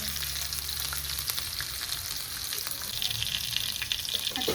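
Garlic sizzles in hot oil in a pan, prepared for a Koli-style rava-coated bombil fry; a steady, close crackling hiss carries on throughout with a low hum in the background, and no one speaks.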